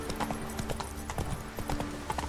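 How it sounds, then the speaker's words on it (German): Horse hooves galloping in the video game The Witcher 3, a quick run of sharp, rhythmic clip-clop beats at moderate loudness, with an occasional faint snort and a low steady game ambience behind. "Pferd, wende dich! Du Schlachtross!"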